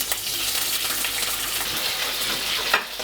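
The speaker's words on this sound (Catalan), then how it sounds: "Ara en el mateix oli hi sofregim els escamarlans" Langoustines fry in hot oil in a pan with a bright, continuous sizzle that holds steady throughout, close up, with a brief clatter near the end.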